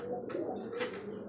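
Pigeon cooing from a desi pigeon in an indoor loft under lights, a short low murmuring coo over about a second with faint chirpy bird noise around it, no talk.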